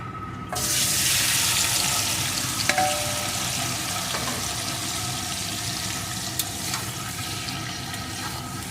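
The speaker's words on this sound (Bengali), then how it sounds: "তেলটা ভালো রকম গরম হয়ে গেছে এখন আমি মাছগুলোকে এর ভিতরে সব একসাথে দিয়ে দেবো" Shing catfish from a wetland, coated in mustard oil, hitting hot mustard oil in a pan, giving a loud sudden sizzle that settles into a steady crackling fry with a few clinks, no voices.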